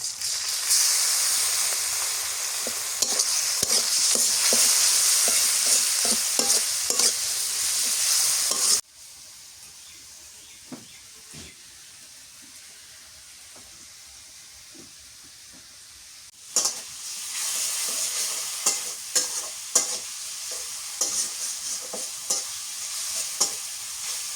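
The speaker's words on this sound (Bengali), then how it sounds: "পেঁয়াজ মরিচ ভাজা হয়ে গেছে, এখন রসুন বাটা আর একটু পেঁয়াজ বাটা দিয়ে দিই।" A pan sizzles loudly as onion and garlic paste fries, with frequent scraping stirs. The sizzle drops quieter for a stretch midway, then flares up again.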